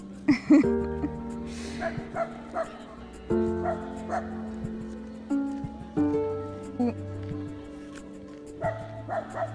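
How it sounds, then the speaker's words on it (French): Dog barking and yipping in short repeated bursts over music in the background, fairly close and lively. "on a aussi un chien qui s'y met"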